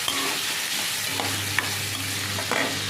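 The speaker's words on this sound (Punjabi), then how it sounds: "ਆਪਾਂ ਨੇ ਇਸ ਤਰ੍ਹਾਂ ਪਿਆਜ਼ ਨੂੰ ਭੁੰਨ ਲਾਂਗੇ ਜੀ ਇੰਨਾ ਕੁ ਬਰਾਉਨ ਹੋਣ ਤੱਕ" Onions frying in a pan until light brown, a loud steady sizzle with occasional scrapes and taps from the stirring spoon.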